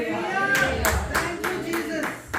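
Church congregation at a Pakistani Christian fellowship clapping for Jesus in a loose, steady rhythm of about seven claps, close and lively over murmured voices.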